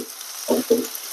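Four garlic cloves frying in a pan for a potato curry, two short bursts of sizzle and stirring over a quiet hiss, brief and close.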